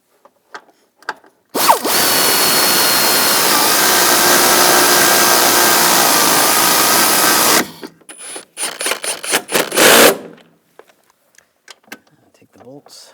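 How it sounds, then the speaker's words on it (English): A power drill or impact tool runs steadily for about six seconds tightening bolts during heater core replacement on a 2010-2017 Chevrolet Equinox, then gives way to short ratcheting bursts and clicks. "Take the bolts, get these started. Tighten these down."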